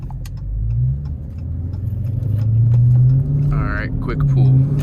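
Supercharged Dodge Charger Hellcat engine rumbling and pulling under hard acceleration from inside the car, a deep drone rising in pitch, heard beneath someone talking.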